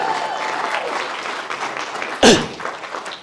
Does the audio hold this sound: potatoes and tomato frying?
no